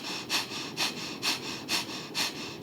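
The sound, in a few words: deep yoga breathing through the nose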